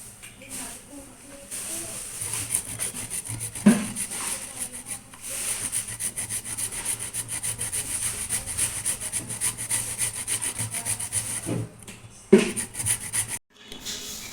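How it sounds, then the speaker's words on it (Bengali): Guava grated on a small grater, a continuous rhythmic scraping rasp of repeated strokes, close and steady with brief pauses, under occasional talk. "পেয়ারাটা এভাবে গ্রেট করে নিচ্ছি। আমি এখানে ছোট কাটার দিয়ে কাটছি, গ্রেট করে নিচ্ছি।"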